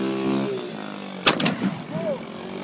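A 12 gauge magnum shotgun with 3.5 inch shells fires at a propane tank, giving a sharp, loud double blast that echoes and rumbles away after a steady engine-like hum.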